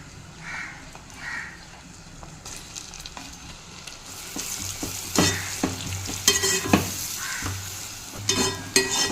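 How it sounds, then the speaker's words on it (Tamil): Onions sizzle and crackle in a pan while a utensil scrapes and stirs in uneven bursts, growing busier partway through. "நல்லா வெங்காயம் இந்த அளவுக்கு வதங்கணுங்க."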